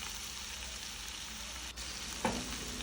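Onion and carrot sauté in a pan with a continuous, even frying hiss, close and fairly quiet, broken by one brief utensil clack near the end.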